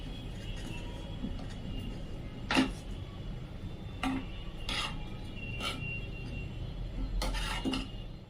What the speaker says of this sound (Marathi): हा तडका आपण त्या शिजत ठेवलेल्या पिठामध्ये टाकून घेऊया। छान हलवून देऊया।